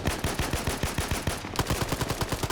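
Rapid bursts of automatic gunfire in a video game, shots cracking in a fast, even rhythm with a brief pause midway before the firing resumes, loud and close.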